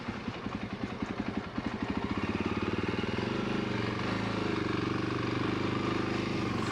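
A Jawa 42 Bobber motorcycle on the road between Delhi and Lucknow. A rapid thumping engine pulse is heard up close and settles into a steady, even drone as the bike rides on.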